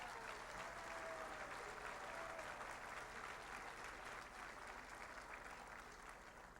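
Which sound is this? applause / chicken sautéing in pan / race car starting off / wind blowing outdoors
applause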